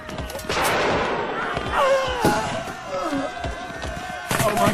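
Gunfire effects in a radio drama adaptation of Beau Geste, rapid scattered shots under shouting voices and battle commotion, fairly loud and continuous.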